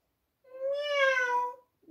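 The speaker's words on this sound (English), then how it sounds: ""Meow, not I," said the cat." A single cat's meow, clear and tonal, rises and falls over about a second in an otherwise quiet setting.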